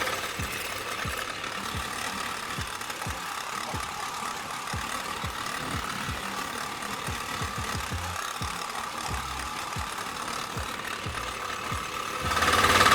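A DTZ walk-behind tractor engine chugs along in third gear, a steady close knocking putter with regular pulses that runs throughout and grows louder and rougher near the end, with no voices.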